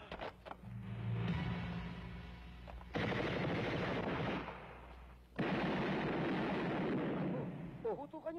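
Gunfire sound effects in a Filipino action movie come as loud bursts of rapid automatic fire in two long volleys, with people talking between and over the shots.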